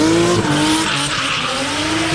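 Drift cars race around the Trackwood circuit in Hungary during a Drift Kings round, engines roaring loudly with sustained tire squeal and skidding, a continuous close, high-revving wail with no talking.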